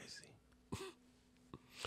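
A single short cough bursts out during a relaxed podcast conversation, followed by a second brief cough-like throat sound a moment later, close and moderately loud against a quiet room.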